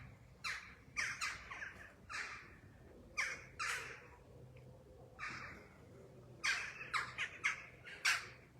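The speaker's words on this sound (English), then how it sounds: "You can hear the crows because that's a common thing that happens sometimes when they come and sit on top of the trees." Crows perched on treetops caw in harsh bursts, several calls in quick clusters with short pauses between, moderately distant and with nobody speaking.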